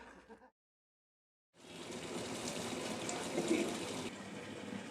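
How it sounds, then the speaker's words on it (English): Water gushes steadily from a tap in a Tibetan exile settlement after a brief silence, a continuous close splashing rush with no talking. "The sound of running tap water is the greatest music to the Tibetans' ears living in Sinjali."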